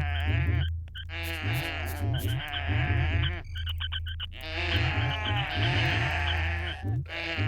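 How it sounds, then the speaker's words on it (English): Sheep-like bleats from creatures in Oddworld: Munch's Oddysee, a 2001 video game, repeating in loud wavering calls over a steady low game drone, with short pauses between bursts. "In this case, lots of random sheep-style noises."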